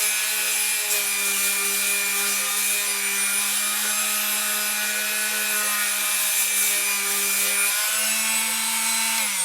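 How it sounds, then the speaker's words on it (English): Palm sander running on a hand-carved wooden ventriloquist dummy, a loud continuous motor whine with steady buzzing sanding, close and uninterrupted, pitch dropping slightly near the end. "And then we'll use our palm sander for the bigger areas."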